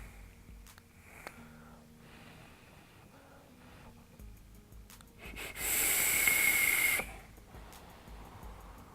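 SMOK Veneno 225-watt dual-18650 box mod firing, a close, bright, steady hiss of vapor lasting about a second and a half, standing alone in a quiet room after faint handling noises.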